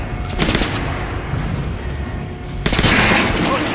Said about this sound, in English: Try out the rest of the weapons you chose. Try shooting for the center of the regular dummies.